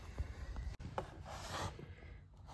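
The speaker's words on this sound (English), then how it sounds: "I'm gonna dig that bullet out of there" Bullet dug out of a ballistic gel block after a .223 test shot, a close, steady rasping and scraping with one brief sharp click partway through, with no voices.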